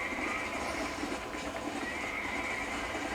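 A horse neighs in the Red Dead Redemption video game, a drawn-out whinny set inside a dense, steady wash of game ambience and noise. No one speaks.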